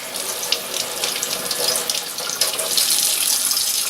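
Running tap water rinses a lapping plate used with a Suehiro Gokumyo 20k sharpening stone, a steady close splashing stream that swells slightly louder toward the end, with no talk.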